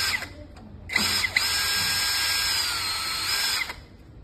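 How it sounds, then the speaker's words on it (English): Power drill backing out the screws of a light strip fixer in a top cabinet, a steady close whine running about three seconds between brief starts and stops. "we need to remove the fixer of the broken light strip"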